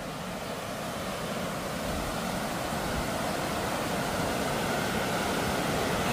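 Water rushes over a dam on a dangerous river as a steady, loud, broadband roar that holds constant from start to end, with no break or voices.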